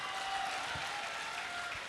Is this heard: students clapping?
yes